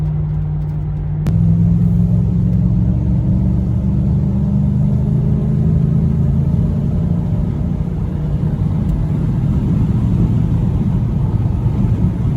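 A 1957 Ford F250 pickup engine rumbles steadily from close by, its deep exhaust note swelling after a brief lull and holding a low, throaty drone throughout.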